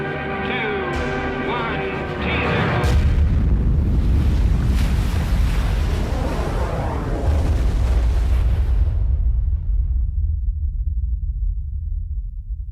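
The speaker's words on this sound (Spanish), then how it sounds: "La potencia de la explosión es similar a la de 10 millones de toneladas de TNT." Archival recording of an atomic bomb test explosion: after a few tonal sounds, a deep, loud, sustained rumbling roar rolls in and holds for several seconds before cutting off abruptly.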